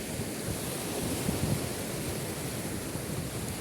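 Ocean waves break on the shore in a steady, moderately loud wash of surf mixed with wind rumbling against the microphone, with no voices.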